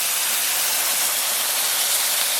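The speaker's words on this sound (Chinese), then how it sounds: "炒上色以后倒入开水" Boiling water poured into a wok of stir-fried oxtail bursts into a loud, close, continuous hiss of steam and sizzle.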